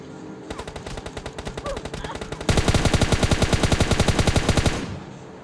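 M416 rifle fire in the PUBG Mobile Lite video game rattles in rapid automatic bursts, growing louder and denser halfway through before stopping abruptly.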